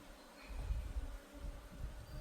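Honeybees at a September apiary hive give off a faint, low, continuous buzz, close and soft, with slight swells and no talking.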